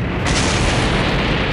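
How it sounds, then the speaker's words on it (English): An explosion booms from a castle in the game Dragon Ball Xenoverse. The blast is loud and broadband and rolls on as a sustained roar for about a second and a half, with no other sound around it. "When an explosion booms out from the castle."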